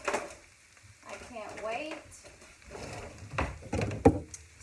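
Cut potatoes being stirred through onions in a skillet, soft sizzling under scraping and clacking utensil strokes, intermittent and close at a quiet level, with no talking.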